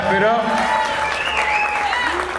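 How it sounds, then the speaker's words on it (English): A small group claps during a basketball podcast interview, a brief burst of applause partly under voices calling out and talking close by. "Clap it up."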